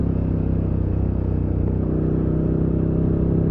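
A KTM 1290 Super Duke R motorcycle engine revs at one-third throttle, a steady, close, loud rumble with a constant low growl and mechanical clatter held for the whole stretch.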